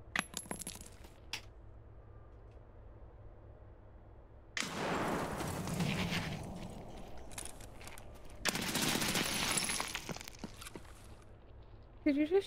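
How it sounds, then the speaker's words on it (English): Gunfire in Escape From Tarkov, a few sharp shots at the start, then two loud sustained bursts of firing separated by quieter stretches, fairly close. "Did you just shoot?"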